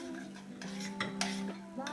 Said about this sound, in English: It's getting really liquidy, but the butter hasn't quite dissolved yet and it hasn't quite started boiling, so I'm going to keep stirring.